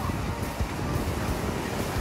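Ocean waves wash in and out on a windy beach near Cancun, a rough continuous roar of surf with gusty wind buffeting close to the microphone.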